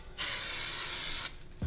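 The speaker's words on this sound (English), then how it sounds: "Once you start spraying, really make sure you take your time and hit every angle of every spoke" Superwrap peelable coating sprays onto a wheel in one steady, loud hissing burst of about a second, close to the mic, then cuts off sharply.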